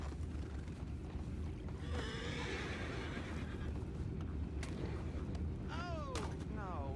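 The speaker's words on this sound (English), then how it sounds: "You mind the horses?" Horse neighing in the video game Red Dead Redemption 2: a couple of clear whinnies near the end, with falling pitch, over a steady low rumble of game ambience.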